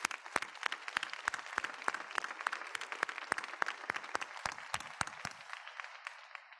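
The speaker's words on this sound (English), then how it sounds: "How about a round of applause for our teachers?" At a high school graduation, the audience applauds for the teachers: a dense wash of clapping from a large crowd heard from some distance, with individual sharp claps standing out before it tapers off into quiet at the end.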